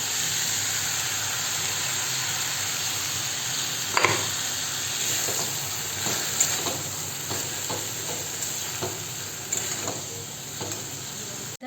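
Ground mustard paste going into sautéing vegetables in a hot pan, with a steady oily sizzle and hiss throughout and occasional soft stirring scrapes and clicks close by.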